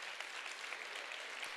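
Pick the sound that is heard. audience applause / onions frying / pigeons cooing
audience applause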